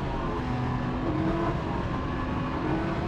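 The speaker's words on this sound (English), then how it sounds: "It takes the edge off when you twist the throttle." A Can-Am Ryker 900 ACE three-wheeler on a road test drive pulls in Eco mode with a steady, loud engine drone and road roar that holds even throughout, with no voice over it.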